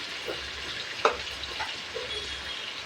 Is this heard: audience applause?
no